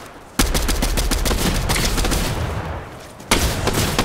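Video game gunfire sounds as a loud, rapid stream of shots lasting about three seconds. It stops briefly, then another burst breaks in right away.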